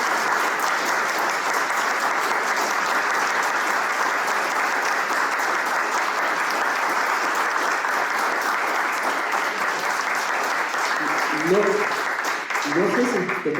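A hall audience applauds a speaker at the close of a talk, dense sustained clapping that stays level for many seconds, with a voice cutting in near the end.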